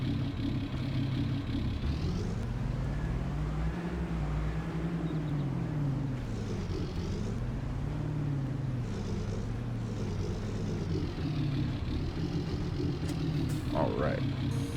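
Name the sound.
truck engine running in a farming video game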